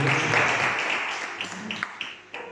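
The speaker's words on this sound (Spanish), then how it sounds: "Vamos a darle un aplauso al Rey de Reyes." A church congregation applauds during a Spanish-language Christian sermon, a burst of dense clapping that fades out over a couple of seconds, with a voice briefly heard as it dies away.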